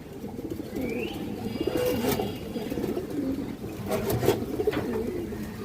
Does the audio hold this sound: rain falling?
no